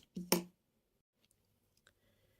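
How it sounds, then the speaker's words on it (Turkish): A crochet thread is cut after the final stitches of a flower motif. A single short, crisp snip sounds close, followed by near silence and a few faint ticks. "İpimi burada kesiyorum."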